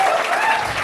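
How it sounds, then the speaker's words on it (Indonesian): A group of participants at a leadership and managerial skills training session claps together, a short, loud, dense burst of applause. "Boleh tepuk tangan teman-teman?"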